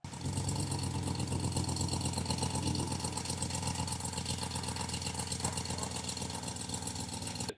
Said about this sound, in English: what you'll hear when this happens is a ticking noise in the engine bay